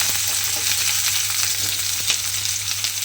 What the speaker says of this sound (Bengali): দিয়ে পেঁয়াজটাকে প্রথমে খুব ভালোভাবে একটু ভেজে নেব।